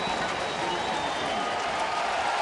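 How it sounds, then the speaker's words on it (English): Baseball crowd at a Reds home game standing and cheering for the rookie catcher's curtain call after a grand slam, a steady, dense roar of applause and shouting filling the whole stretch without letup. "A crowd standing and cheering and waiting for the Reds rookie catcher."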